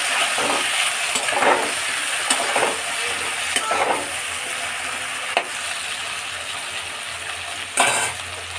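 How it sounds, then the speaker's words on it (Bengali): Eggplant pieces fry in hot oil in a wok with a loud, continuous close sizzle, broken now and then by scraping stirs and light metallic clinks. "এবার সব কটা বেগুন একসাথে দিয়ে হালকা আমি ভেজে নেবো"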